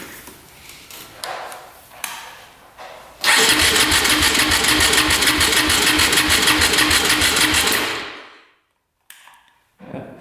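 Honda TRX450 quad engine cranking over with the throttle held open for a compression test, a loud steady starter-driven chug for several seconds that winds down and stops, with brief quieter noises at either end.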